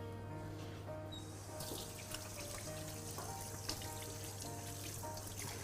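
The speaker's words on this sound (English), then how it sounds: "Wash my hands." A tap runs into a sink while hands are washed in a kitchen during a cooking demonstration. The water splashes steadily and fairly close over a constant low hum, and the flow grows brighter partway through as the hands move under the stream.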